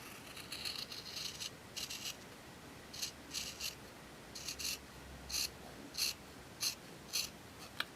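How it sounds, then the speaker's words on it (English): Scissors trim a fabric seam allowance close to the stitching, making a series of faint, crisp snipping and rasping cuts in short irregular bursts that come quicker toward the end, with no voices. "We're then going to trim our seam allowance very close to the stitching"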